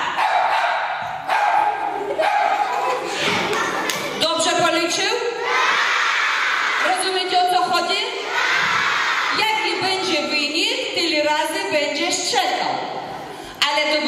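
A circus dog performing at a school show barks out answers to arithmetic questions, several short sharp barks in a sequence amid crowd noise, children's voices and a presenter talking.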